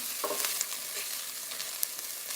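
Onions frying in a pan for an Indian masala base sauce, a steady soft sizzle with occasional stirring scrapes and light ticks, close and continuous with no talking.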